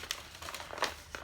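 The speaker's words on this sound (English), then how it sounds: "This is my really crumply up pattern." Paper knitting pattern being crumpled, a few quiet close crinkles and rustles in quick bursts.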